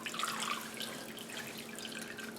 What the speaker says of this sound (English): The sink is draining.